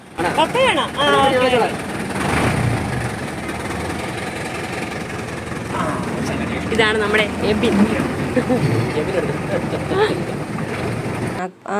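A boat engine runs on the Alappuzha backwaters with a low, steady rumble mixed with wind buffeting, while people talk over it for most of the stretch.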